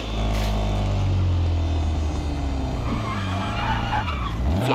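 A Lancia 037 rally car in WRC 10 on a Belgian stage, braking hard with tyres skidding and squealing over a loud engine note that drops and climbs, with no talk.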